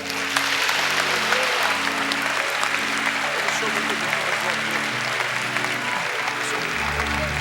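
A church congregation applauds loudly and steadily, dense close clapping that carries on throughout, with a sustained musical tone underneath.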